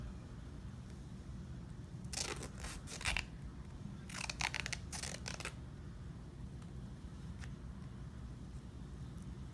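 Athletic tape is pulled off the roll for ankle anchor strips, making two short clusters of sharp ripping bursts over a steady low background hum.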